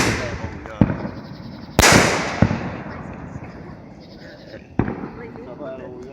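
Fireworks bang at night across a neighbourhood yard, several sharp separate pops and bursts spaced a few seconds apart, moderately distant, with people talking in the background between blasts.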